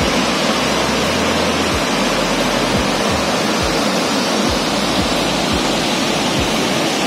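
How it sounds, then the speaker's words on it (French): A lively, tumultuous small river in Doi Inthanon National Park rushes steadily, a loud broadband roar of water close by with no voices. "on arrive directement sur un petit morceau de rivière. Une rivière assez vive,"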